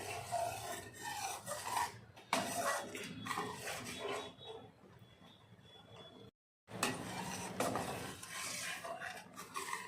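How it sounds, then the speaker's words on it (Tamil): A spoon scrapes and stirs coconut milk reducing in a pan for coconut milk khova, giving a continuous rasping scrape that is broken once by a brief pause before the stirring resumes. "விடாமல் கிண்டிக்கிட்டே இருக்கலாங்க."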